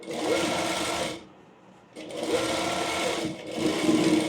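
A sewing machine runs straight stitches along a layered frill frock in close, steady bursts, whirring for about a second, pausing briefly, then starting again twice more.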